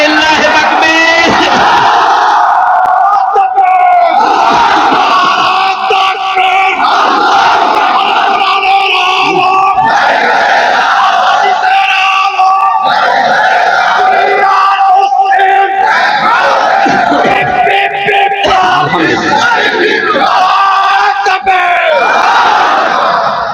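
A large crowd at an Islamic sermon gathering (waz mahfil) shouts Allahu Akbar in unison after a takbir call, with loud, sustained chanting that rises and falls in repeated waves for over twenty seconds.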